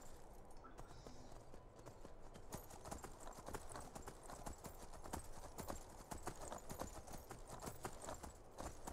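Horse hooves clip-clopping in a steady trotting rhythm during a ride in the Skyrim video game, constant and fairly close over a low ambient bed.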